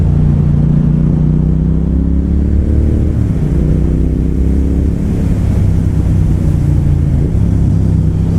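Triumph Speed Twin motorcycle in sport mode pulling hard, the engine droning loud and close as its pitch climbs, dips at a gearchange and rises again, mixed with rushing wind.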